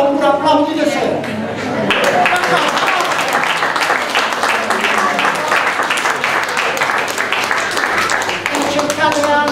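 Theatre audience applauding before an Italian stage play, a dense sustained wave of close and distant clapping that swells after a moment and holds steady, with scattered voices and a few murmurs mixed in.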